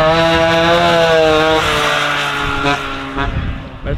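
A moped built for wheelies revs high and loud up close, its engine note climbing in a sharp buzzing whine, then dropping and sputtering as it falls off.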